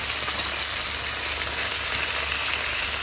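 Meat with cracklings frying in a pan, a steady, soft sizzle with fine crackling that continues evenly without talk.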